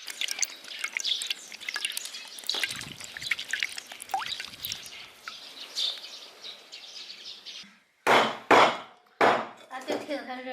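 Coconut water shaken out of a coconut, a stream of dripping and trickling liquid, then a few loud close splashes near the end.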